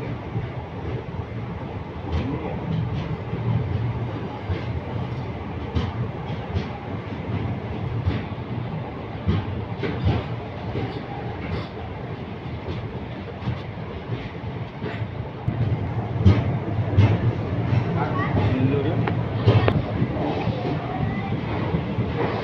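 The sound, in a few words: train halted at Mayiladuthurai junction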